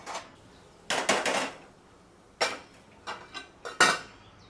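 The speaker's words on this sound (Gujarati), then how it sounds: "ઢાંકી ને આની નીચે આપણે લોઢી મૂકી દેવાની છે" A heavy iron griddle set down beneath a covered pan on a kitchen stove gives several sharp metallic clanks and scrapes, loud and close, spaced in short bursts with quiet gaps between.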